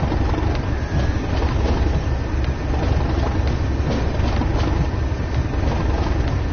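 Train Sim World 2020 locomotive rumbling steadily along the rails, a dense continuous low drone with faint rhythmic clicks, loud and unbroken throughout with no talking.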